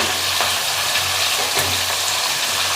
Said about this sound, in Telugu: పచ్చి కరివేపాకు ఓ పెద్ద సైజు టమోటా కూడా వేసి బాగా మగ్గించుకుందాం